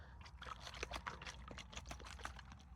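Water sloshing inside a plastic bottle left outdoors overnight in well-below-freezing temperatures, still liquid; a close, continuous splashing and trickling as the bottle is shaken for a few seconds.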